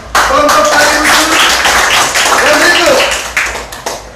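A class claps together in a burst of applause for a student group, with a voice speaking briefly partway through.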